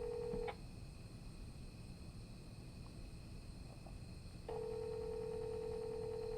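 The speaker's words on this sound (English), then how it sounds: "Okay, let me call this one." A phone call rings out through a handset, a steady ringback tone sounding, pausing for about four seconds, then resuming loud and continuous over faint background hiss.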